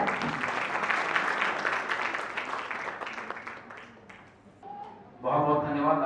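Audience applause at a police training session on digital fraud, a broad wash of clapping that thins out, followed by a speaker's voice starting up near the end.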